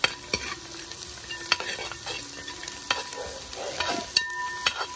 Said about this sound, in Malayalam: നമുക്ക് അതിലേക്ക് ക്യാഷ്യൂ നട്ട് ഇട്ട് കൊടുക്കാം